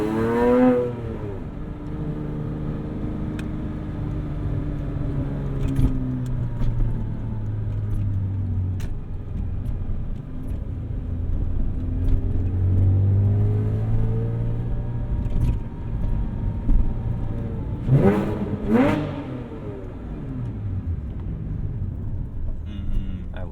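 A 2006 Porsche Cayman S with a full IPE exhaust drives steadily, its engine note rising and falling through gear changes, with a loud surge of revs near the end. Only a few faint words are spoken.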